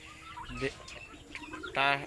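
Young local chickens on a farm call out with short, scattered chirps and clucks, then one louder, rising squawk near the end, heard fairly close with little background.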